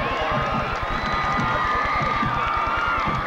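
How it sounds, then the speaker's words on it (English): A high school football crowd cheers and roars late in the fourth quarter of a 1999 Central Bucks West vs. North Penn game, a loud, steady wall of crowd noise with shouting throughout. "Ted Kenyon on the sideline exhorting the crowd, and they are going wild"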